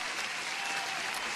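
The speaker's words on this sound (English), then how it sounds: "I gave you the applause because the music, when it comes in with the alert, it's copyright protected." Applause sound effect played as a stream alert, a steady wash of crowd clapping filling the short stretch without a break, moderately loud and alone.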